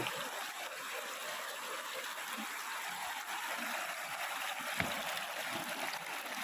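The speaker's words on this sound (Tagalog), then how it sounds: "Yan, tatawid tayo dito sa ilog." Clear, cold water of a mountain river in a Bicol park rushes steadily over rocks in a broad, continuous hiss, close and constant with no voices.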